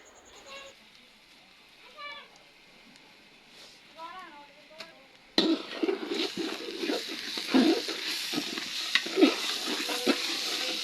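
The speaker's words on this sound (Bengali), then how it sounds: "তো প্রথমে চাল ভালো করে ভেজে নেবে।" Rice is fried in a pot for biryani, starting with quiet chirps in the background before a sudden loud sizzle. Scraping stirring strokes and clinks of a spoon against the pot follow.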